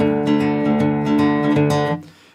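Acoustic guitar in drop D tuning plays the intro riff of a song, a short ringing fingerpicked phrase of several plucked notes over a low droning string, close and clear, fading out at the end.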